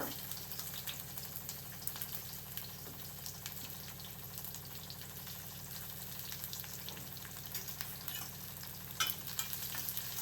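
Garlic cloves, green chillies and onions frying in a pan for atukula upma, a steady, even sizzle running throughout at moderate level, with a few faint clinks near the end.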